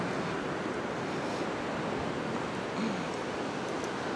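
Atlantic Ocean surf at a Central Florida beach on Christmas Eve makes a steady, loud wash of breaking waves, mixed with wind rumbling over the microphone, with no one talking.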